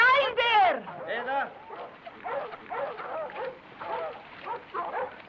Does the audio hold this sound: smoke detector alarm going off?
no